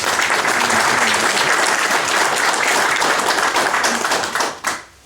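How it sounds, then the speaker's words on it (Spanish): A church congregation claps loudly and densely during a Catholic homily, a sustained wash of hand claps that tapers off abruptly near the end. "Así que un aplauso por Juvenal."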